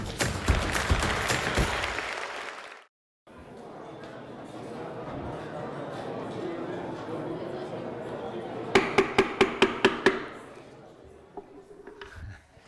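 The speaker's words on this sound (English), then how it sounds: "Now that is a fine painting, fine price. That deserves clapping." A room of bidders at an art auction claps briskly for a few seconds after a record sale, then falls quiet. Talking and a few sharp clinks and taps follow.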